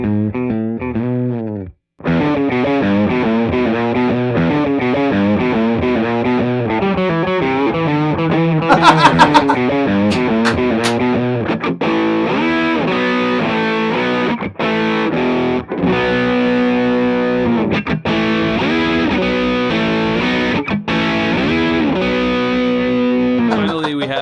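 Electric guitar played through budget and boutique Marshall-style distortion pedals, a sustained, heavily driven tone with chords and riffs ringing continuously and loud, alone without talk.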